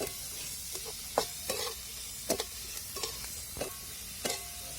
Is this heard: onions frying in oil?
yes